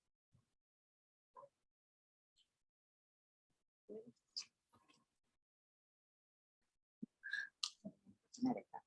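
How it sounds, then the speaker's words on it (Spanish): A few soft, isolated computer mouse clicks spaced out in a quiet room during an online presentation, followed by brief murmured voices. "estoy dando clic"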